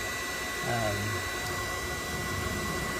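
An induction heater works on a stubborn bolt on an all-metal mower deck, producing a steady, even electrical whine and hum that runs unbroken, with a brief low murmur of a voice early on.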